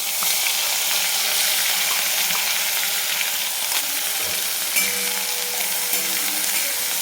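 Cumin seeds fry in hot oil with ground masala paste for a spicy eggplant dish, giving a steady, loud, close sizzling hiss that holds without pause.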